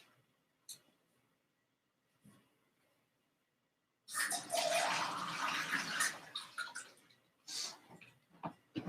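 Water pours into a cup in a steady splashing run of about three seconds, then a shorter second pour after a brief pause, close up in a quiet room with a few small taps before.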